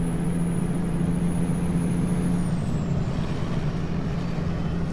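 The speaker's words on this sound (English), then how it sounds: "Love the sounds that that Sound Fix mod adds of the trucks when you go by them." Trucks pass by in the American Truck Simulator game, heard as a continuous, moderately loud engine and road roar with a hiss, and no talking.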